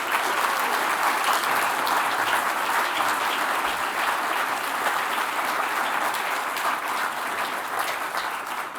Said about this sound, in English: let's give Chad, Aram, and John, and Tom a big applause.